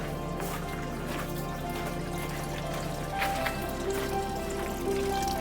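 Water trickles and drains steadily from a pipe, a continuous gurgling flow with a low hum underneath, no one speaking.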